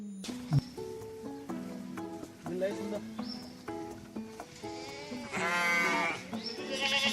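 Sheep bleat in a series of short, wavering calls, several overlapping and fairly close, rising into a louder, longer bleat near the end while a person talks over them.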